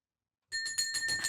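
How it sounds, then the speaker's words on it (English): Bell rung for last orders at a home bar, a bright metallic ringing struck in quick repeated strokes after a short silence, close and clear. "He's got a bell for last orders."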